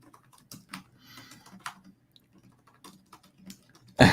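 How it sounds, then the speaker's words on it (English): Quick bursts of keyboard typing, irregular clicks close by in a quiet room, ending with a sharp louder clatter. "I'm typing to Leilani"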